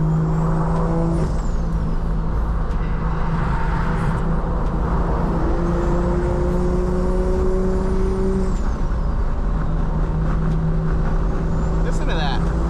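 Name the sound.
single turbo BMW F80 M3 engine while driving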